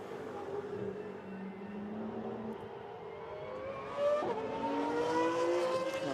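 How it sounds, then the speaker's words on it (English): Pagani Huayra race car squealing on the Barcelona circuit during a GT1 Sports Club track session, with a Porsche running behind; a steady loud engine drone with rising tonal whine, swelling louder toward the end. "the noise of the Porsche rather lost behind the squeal of the Pagani Huayra"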